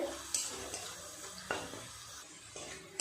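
Sliced onions fry in hot oil in a pan for chicken nihari, giving a steady, close sizzle broken by a few soft stirring scrapes and clinks; no talking.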